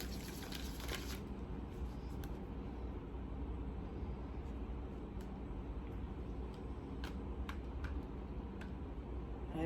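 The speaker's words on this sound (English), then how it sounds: "Just shuffling the cards." Tarot cards being shuffled on a table, a steady papery riffle and soft ticking clicks running continuously for about ten seconds, fairly quiet, with faint room hum and no talking.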